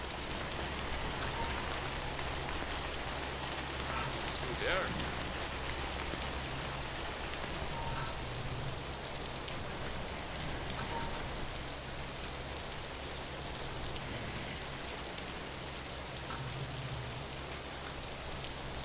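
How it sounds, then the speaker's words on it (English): Steady rain in the video game Death Stranding, an even hiss of drops falling on surfaces that continues without pause, with a low rumble beneath and a few brief spoken words. "Rain?"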